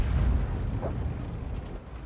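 A Leopard 1 tank's main gun fires in a video game, a single heavy boom with a rumbling low-end tail that fades over about two seconds, with no talk over it.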